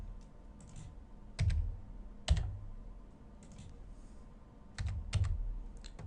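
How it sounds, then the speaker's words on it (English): Keys on a computer keyboard clatter in short, quiet bursts of clicks as an answer is typed into an online math program, with pauses between the groups of taps. "In my ALEKS screen, type in the answer that I got in my notes."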